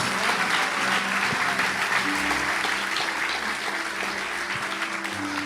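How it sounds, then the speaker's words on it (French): Audience applause at a church testimony gathering, a dense, sustained clapping from many hands lasting throughout, loud and steady, with a faint voice beneath it. "Je pense qu'on peut acclamer le Seigneur."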